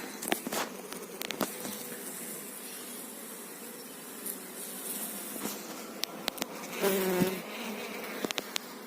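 Bees buzz steadily throughout a beehive swarm inspection at an apiary, a dense close drone with scattered sharper clicks and handling knocks, swelling louder near the end.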